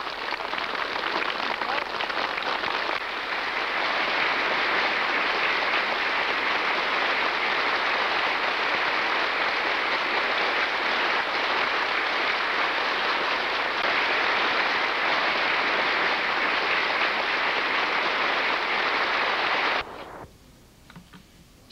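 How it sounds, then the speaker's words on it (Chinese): Prolonged, warm applause fills a large meeting hall at an expanded Central Military Commission session in Beijing, a dense, even roar of many hands that holds for about twenty seconds and then stops abruptly. "全场再次响起长时间的热烈掌声。"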